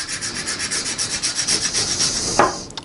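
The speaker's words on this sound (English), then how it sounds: "all you do is take a knife and just gently scrape" A knife blade gently scraping the head of a match, a close, dry rasping repeated in quick, even strokes, ending with a slightly sharper scrape and a soft tap.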